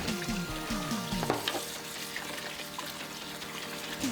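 Boiled potatoes rinsed under a cold running tap, a steady rush of water with splashing and clatter, close and fairly loud throughout with no talk.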